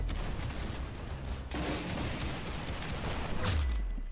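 Rapid gunfire in Roblox Arsenal, dense bursts of shots rattling continuously and loud throughout, with a sharper burst near the end.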